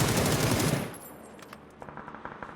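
Gunfire in the battle royale game PUBG, heard as a loud burst of rapid machine-gun fire that cuts off after under a second, followed by fainter scattered, distant shots.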